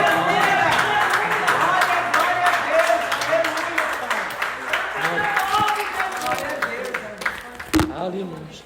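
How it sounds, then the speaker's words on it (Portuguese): A congregation in a church claps throughout, a busy clapping texture with a prominent voice speaking over it and a few sharp louder claps near the end. "Uma salva de palmas."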